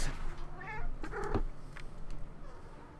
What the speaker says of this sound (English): More meow from Bassel.